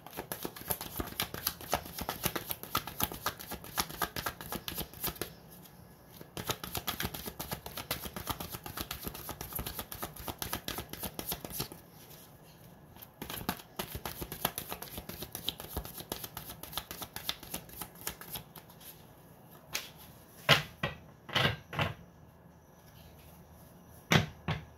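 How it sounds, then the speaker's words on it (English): Repeated riffling and snapping of a card deck, dense crackling bursts over steady background hum, with a few sharp louder snaps near the end. "I feel the need for one more shuffle."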